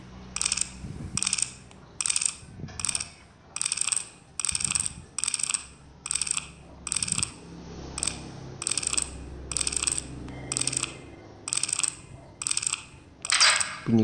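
In a horror video game, a series of about a dozen sharp metallic clicks repeats at a steady pace from a metal locker's lock being turned notch by notch, over quiet background.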